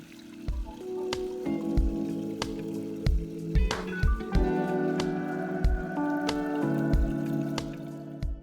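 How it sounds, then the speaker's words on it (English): Gasoline drains from the fuel cap hole of a Honda EP1800 generator's rusted fuel tank, a steady pouring trickle with repeated distinct drips and splashes close by. "So I will drain it first in its fuel cap hole. I drained the remaining gasoline."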